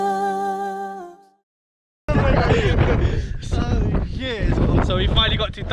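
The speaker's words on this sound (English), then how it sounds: "it's so windy and it's so cold" Heavy wind buffeting the microphone on the Durdle Door coast, a loud continuous roar after a brief musical tone fades, with a person talking over the gusts.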